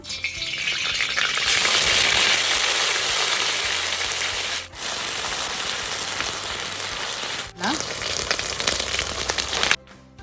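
Ginger garlic paste fries in hot oil for an egg masala curry, a loud steady crackling sizzle with two brief dips and a scrape, cutting off abruptly at the end.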